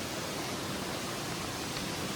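Spring water pours into a stone water tank as a constant, even rush of flowing water, steady and moderately loud with no breaks or voices.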